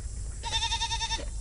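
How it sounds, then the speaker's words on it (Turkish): Goats bleat in a farmyard, a single clear wavering cry rising over quiet outdoor background and holding for nearly a second before fading. "Keçilerimize su veriyoruz."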